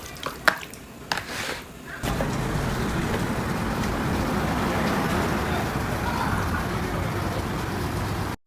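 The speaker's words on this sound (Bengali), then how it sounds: "আলুগুলোকে এখন আমি পরিষ্কার করে নিব" Potatoes being rinsed under a running tap, a steady loud rush of water that starts abruptly after a few clicks and knocks and continues evenly to the end.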